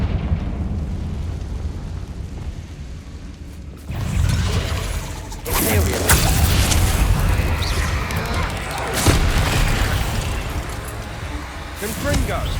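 A Confringo fire spell bursts into explosions in the Hogwarts Legacy video game: loud booming blasts with crackling, mechanical rumble, repeated several times in close succession after a quieter opening stretch.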